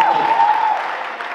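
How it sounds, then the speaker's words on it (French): Brief applause from an awards ceremony crowd celebrating creativity, a short burst of clapping with a tonal sound over its start, fading slightly within about a second and a half. "Est-ce qu'on peut applaudir pour ça, pour cette créativité?"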